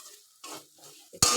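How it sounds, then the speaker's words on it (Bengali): Ground cumin and coriander spices frying in a pan, stirred a few times: quiet intermittent scrapes and soft sizzle bursts, ending in a sudden louder hiss, no voices. "2-3 বার নাড়বো, নেড়ে একটু জল দেবো।"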